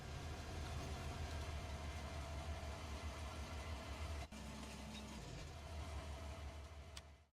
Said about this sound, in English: the big question is where all of these trains are